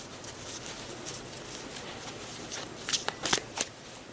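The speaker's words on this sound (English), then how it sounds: "maybe we'll give it a quick casino shuffle" A deck of playing cards given a casino-style shuffle on a table, a soft continuous riffle and patter that ends in a few sharper snaps and slaps as the cards come together.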